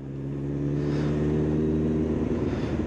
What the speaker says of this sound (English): Still got the acro exhaust on to make a bit of noise, because everyone loves a bit of noise, don't they?